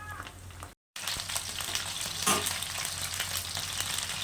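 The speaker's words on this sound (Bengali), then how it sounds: "তাহলে পকোড়াগুলো ভেজে নেই" Chicken pakoras frying in oil over low heat, a dense continuous sizzle with faint stirring, broken by a short gap of silence early on.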